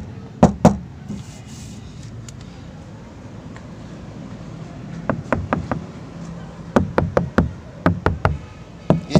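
Knuckles rap on a car door panel in quick clusters of two to five sharp knocks, close and crisp, separated by pauses over a low steady background hum.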